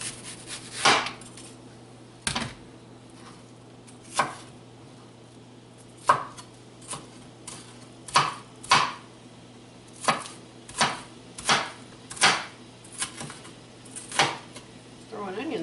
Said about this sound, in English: Cut up a little onion